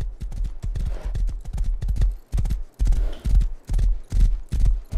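A pony's hooves clip-clop at a steady trotting pace in the survival game Rust, loud and close, with rhythmic hoof strikes continuing throughout.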